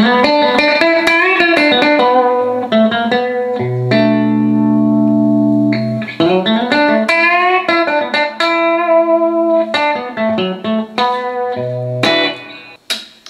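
A 2012 Gibson Firebird 70's Tribute electric guitar on its bridge pickup plays bright, twangy riffs and sustained chords with distortion, loud and close, notes ringing between quick picked passages.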